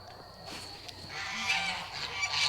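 Geese honk repeatedly at a farm garden, a flock calling close and fairly loud in an overlapping, steady stream with no one talking.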